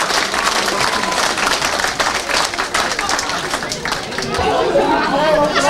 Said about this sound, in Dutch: een daverend applaus voor deze mensen